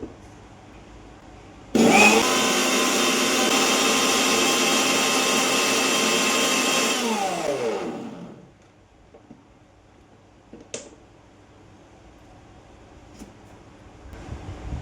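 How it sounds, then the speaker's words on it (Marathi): A new electric mixer grinder whirs loudly for about six seconds, a steady high-pitched motor whine that spins down and fades, followed by quiet room noise with a few faint clicks. "आणि आता आपल्याला मिक्सर"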